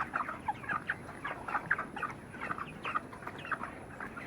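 Many chickens cluck on a poultry farm, a busy chorus of overlapping clucks and short calls at moderate distance, continuous and fairly soft, with no talk over it.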